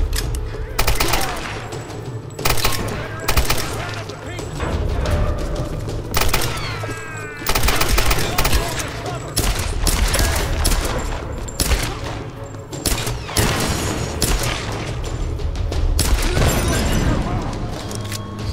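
Machine gun fire in the 2013 PC game Tomb Raider, loud bursts of rapid automatic shots repeating across the whole stretch, with booms and other game effects mixed in and no talking over it.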